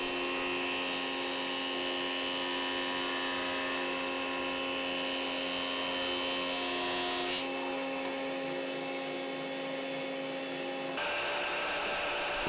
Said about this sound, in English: all I had to do was joint one edge square to the face